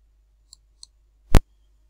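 A single sharp mouse click on a button, loud and isolated after two tiny faint ticks, with silence all around.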